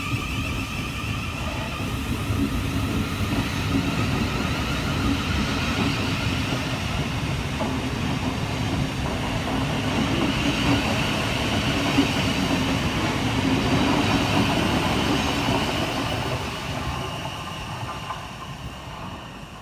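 A Class 700 Thameslink train departs Carshalton station, a sustained rumble of wheels and motors with faint rail clatter, loud and near throughout before easing off toward the end, with no speech.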